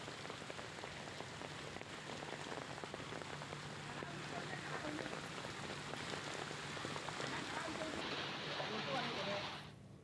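Heavy rain and hail patter densely on a surface during a hailstorm in Dharwad, Karnataka, a constant loud drumming of countless impacts that cuts off abruptly near the end.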